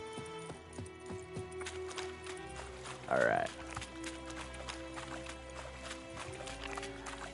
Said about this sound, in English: Just a random horse chilling here.